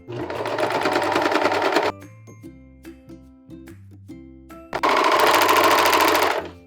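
A serger overlocks the center front seam of fabric shorts in two loud steady runs, with a quieter pause of soft mechanical clicks and ticks between them.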